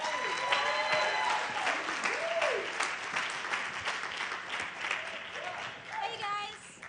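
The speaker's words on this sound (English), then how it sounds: "Can we all give a big round of applause for Act 2?" Applause fills a chapel service as a congregation claps for a drama ministry team, a lively burst of clapping with voices and a few calls rising over it throughout.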